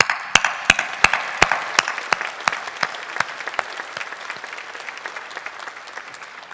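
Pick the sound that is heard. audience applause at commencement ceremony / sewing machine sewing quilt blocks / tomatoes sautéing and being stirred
audience applause at commencement ceremony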